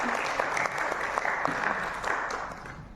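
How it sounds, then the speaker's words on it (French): Sustained audience applause fills an event hall at the French Institute, a dense wash of clapping hands that stays steady and fairly loud throughout, with faint voices mixed in. "je voudrais que vous l'applaudissiez."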